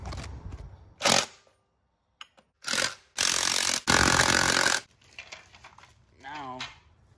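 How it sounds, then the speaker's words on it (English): An impact wrench tightens the lug nuts on a golf cart wheel during a restoration, firing several loud, short rattling bursts of a second or less each, separated by quiet gaps and softer handling noises. "we're ready to use the impact and tighten that one back up"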